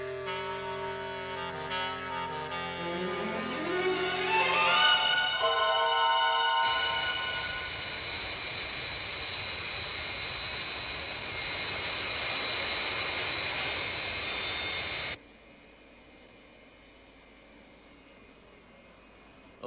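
Jet engines of the Fire Flash aircraft roar in flight, a tone sweeping upward into a loud sustained whine and rush that holds steady, then cuts to a quieter hum near the end, with no talk.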